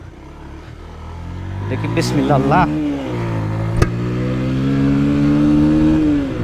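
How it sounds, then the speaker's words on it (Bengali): A Bajaj Pulsar motorcycle accelerates hard through its gears, engine pitch climbing in rising sweeps with a sharp click at a shift, then settling into a loud sustained drone; someone speaks briefly near the start. "চলুন আমরা যাই দেখি এই বাইকটা থেকে ফার্স্ট, সেকেন্ড, থার্ড 3 নাম্বার গিয়ারে আমি এই বাইকটা থেকে কত স্পিড তুলতে পারি"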